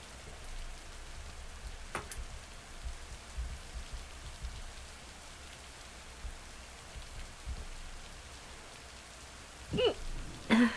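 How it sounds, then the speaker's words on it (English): Steady rain falls around a lake, a soft, even hiss across the whole stretch, broken by a few faint knocks and a short burst of handling noise near the end. "No, it's rainy."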